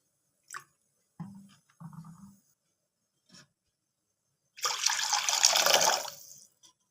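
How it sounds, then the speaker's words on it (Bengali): A few small clinks come first, then water is poured into a kadai (wok) for about two seconds with a bright rushing splash, close and alone. "কড়ার মধ্যে আমি জলটা দিয়ে দিলাম"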